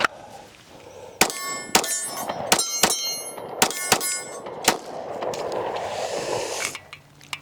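Seven sharp, ringing reports from a Rost Martin RM1C pistol firing 124 grain rounds at an outdoor range, spaced irregularly about half a second to a second apart, loud and close with metallic echoes trailing each shot.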